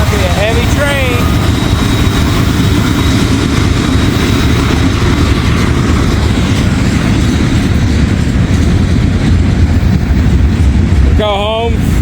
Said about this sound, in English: Might be a heavy train.